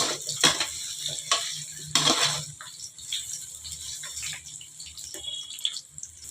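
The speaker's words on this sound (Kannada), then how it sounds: "ಎಣ್ಣೆಯೊಳಗೆ ಫ್ರೈ ಮಾಡ್ಕೊಳ್ಳೋಣ." Cauliflower florets frying in hot oil for an aloo matar gobi fry, a soft steady sizzle with a few sharper crackles and stirring scrapes near the start, fairly quiet and without talk.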